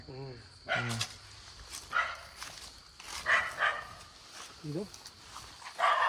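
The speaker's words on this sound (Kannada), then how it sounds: "ನಾಯಿ ತಾನೆ" A dog barks a few times in short bursts, with people talking in between and around the barks.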